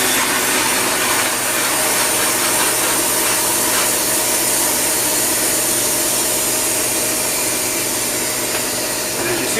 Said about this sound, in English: you're going to hear a hiss because all the air is being sucked into the freeze dryer.